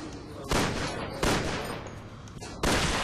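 Gunshots ring out at zombies in Resident Evil 6, three separate loud bursts spaced roughly a second apart over a low game background with no talking.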